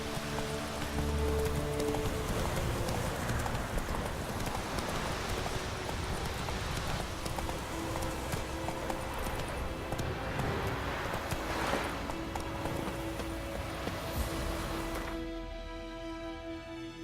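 A horse gallops in The Witcher 3 game, a continuous rapid patter of hooves under music and ambient sound, fading out near the end.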